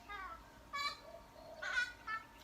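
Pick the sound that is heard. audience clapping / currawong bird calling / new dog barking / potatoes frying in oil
currawong bird calling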